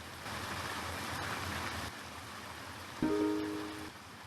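Steady hiss of rain in the Neo Scavenger video game, a soft continuous wash that drops a little partway through before a brief tonal chime sounds near the end.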